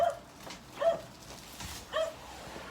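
Three short, moderately faint dog barks or yips, spaced about a second apart, with quiet background between them.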